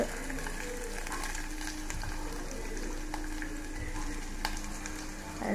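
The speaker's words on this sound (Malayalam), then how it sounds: "അങ്ങനെ കടുക് പൊട്ടുന്നുണ്ട്" Mustard seeds popping and sizzling in hot oil, a steady close frying hiss with scattered small pops throughout, no talk.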